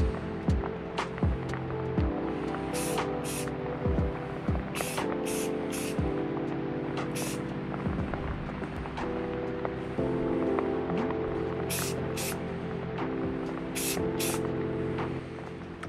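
An aerosol can spray-paints chrome car mirrors black, repeated short hissing bursts in an irregular rhythm over a steady background hum, close by.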